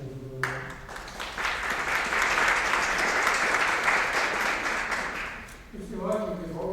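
Applause from the audience at a deliberative town session: broad, continuous clapping swells and holds for several seconds, then fades as a voice returns near the end.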